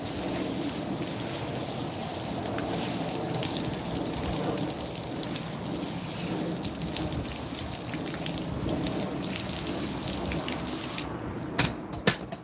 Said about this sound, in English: Make sure you hose it really, really clean.